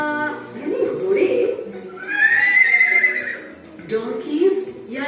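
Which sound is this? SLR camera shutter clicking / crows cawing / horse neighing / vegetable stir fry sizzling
horse neighing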